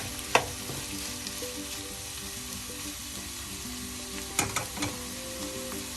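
Onions and masala for a crab roast sizzle softly in a pan, with a steady quiet frying hiss and a few sharp clinks of a stirring spoon against the pan.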